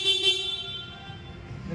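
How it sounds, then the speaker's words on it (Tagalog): A Yamaha XSR 155 motorcycle horn sounds one short, bright, buzzy blast up close that quickly fades, followed by faint handling noise. "Tapos, busina."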